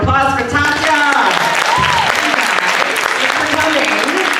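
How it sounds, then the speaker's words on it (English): A convention panel audience breaks into loud, sustained applause with cheering, while voices talk over the clapping at close range. "Everyone give a round of applause for Tasya."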